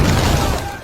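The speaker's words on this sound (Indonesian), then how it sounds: "ledakan itu membuat suasana panik" An explosion in a war setting where soldiers had been eating together, a loud, close, broad roaring blast that fills the moment and slowly decays.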